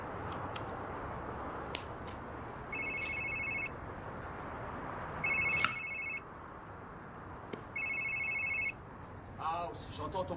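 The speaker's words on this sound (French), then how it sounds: "j'entends ton portable qui sonne." A mobile phone rings in repeated electronic bursts, three clear rings spaced a couple of seconds apart, over a quiet room hum with faint clicks and a short burst of other noise at the end.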